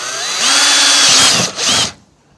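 A power drill whines into the used bumper being swapped onto a 1994 Chevy K1500 pickup, a loud, close burst of about two seconds that shifts in pitch as it bites, then cuts off abruptly.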